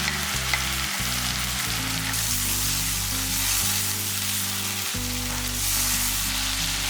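Tomato paste goes into a hot pan and fries with a steady, loud sizzle, with stirring heard alongside it and no talking.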